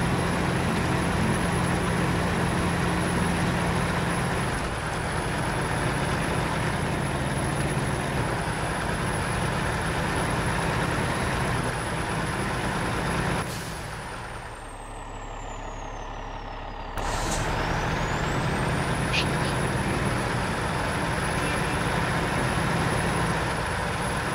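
A 6x6 truck in the SnowRunner video game, set in Alaska, climbs a hill in fourth gear. Its engine roars loud and steady throughout, dropping briefly near the middle before resuming at full drone. There is no talking.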